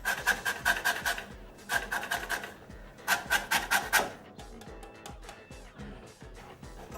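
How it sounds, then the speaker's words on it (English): Lemons are grated around their peel with a zester for lemon curd, producing bursts of quick, raspy scraping strokes in short rhythmic runs, close and fairly soft, separated by pauses and lighter handling noises. "we're going to grate these lemons"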